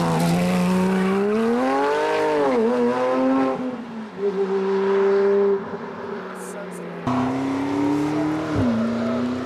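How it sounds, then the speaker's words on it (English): Supercars rev and accelerate on a mountain hairpin road. Rising engine notes come from nearby, with a brief tire squeal and cars passing, and there is no clear talk. "We've just been going up and down this hairpin with all of the other supercars."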